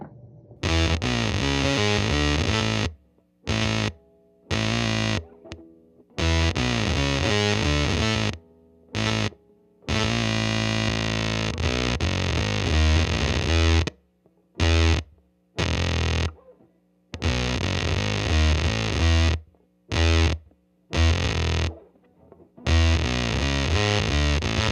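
Electric guitar through a homemade, point-to-point-built sub octave fuzz pedal, heavily distorted and glitchy, playing loud chopped riffs that cut off abruptly into brief silences throughout.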